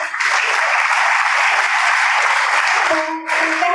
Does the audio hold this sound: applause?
yes